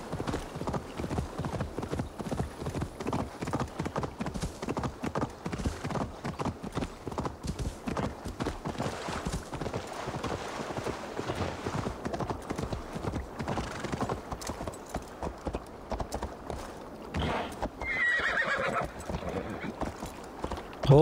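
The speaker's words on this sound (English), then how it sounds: "Horse, you're gonna have to get in the water." Steady clip-clop of a horse's hooves trotting throughout in Assassin's Creed Valhalla, with a whinny rising near the end over a soft ambient backdrop.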